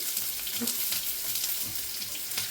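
Onions frying in a pan for a soybean roast give a steady, close hiss of sizzling with faint scraping and clinks beneath, continuous throughout.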